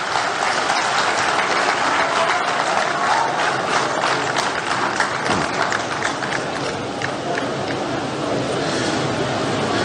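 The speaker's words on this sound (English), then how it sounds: "Let's clap for him." A large crowd at a political acceptance event in Ghana claps and cheers loudly and continuously, a dense, steady wash of applause with shouts mixed in.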